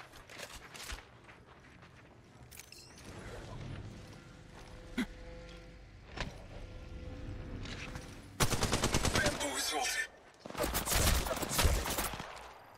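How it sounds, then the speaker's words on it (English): Gunfire in Apex Legends Mobile, scattered single shots and short bursts at moderate distance that build to two loud sustained volleys near the end, with brief in-game voice callouts between them. "Getting shot at."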